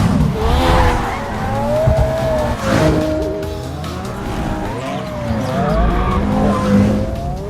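A Ferrari Enzo and a Porsche Carrera GT race along a set course at an airport, engines roaring loudly and continuously with shifting pitch and bursts of tire squeal, close and alone.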